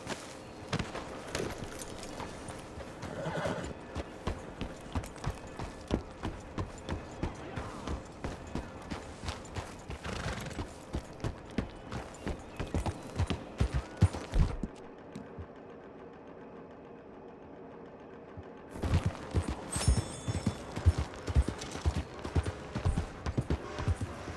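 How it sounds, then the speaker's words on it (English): Video game horse hooves clip-clopping at a steady pace, fairly close, with a brief quieter lull midway before the hoofbeats resume, from Red Dead Redemption 2. "Look at that horse. Real beauty right there."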